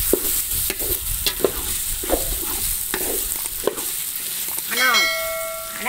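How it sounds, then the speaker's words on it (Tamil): Tomatoes sautéing in a pan over a wood fire on a rooftop for chicken biryani, a constant sizzle with regular spatula scrapes, then a ringing metallic clang near the end, close and fairly loud. "தக்காளி நல்லா வதங்கட்டும்."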